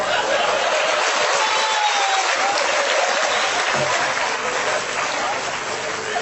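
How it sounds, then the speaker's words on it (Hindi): Steady, dense applause from a stand-up comedy audience in India, loud and unbroken throughout, with scattered chuckles mixed into the clapping. "सांस लेना है ताली बजाओ।"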